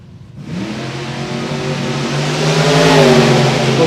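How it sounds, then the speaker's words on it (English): A Topolino altered and an injected Oldsmobile launch side by side at an NHRA drag strip, engines swelling from near silence into a loud, rising roar. "Bill's little Topolino altered over here on the right, alongside the injected Oldsmobile over on the left for Stephen Bowley"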